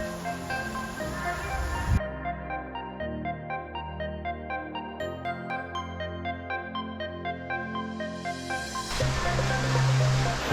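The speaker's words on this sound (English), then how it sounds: "we've got our own little pool and waterfall all to ourselves" Water spilling from a waterfall into a small secluded swimming pool in the Northern Territory makes a steady, broad rush. It is clear at the start and end, and music with distinct notes plays over it in the middle.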